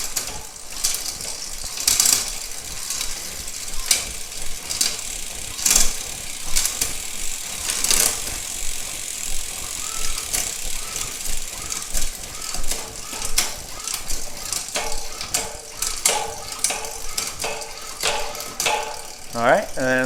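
Archer D1X wireless shifter moving a bicycle rear derailleur through a 1x14 drivetrain, sounding as a string of quick ratcheting mechanical clicks, repeated shifts spaced through the span, with some faint talk in the background.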